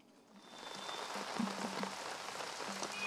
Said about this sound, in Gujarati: એલિસ બ્રિજમાં અત્યારે મન મૂકીને વરસાદ વરસી રહ્યો છે